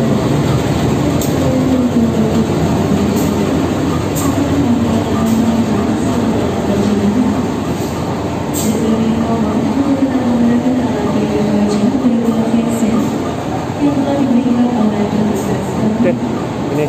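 A steady rumble inside a moving economy-class passenger train from Malang to Jember, with people talking throughout and occasional faint rattles and squeaks.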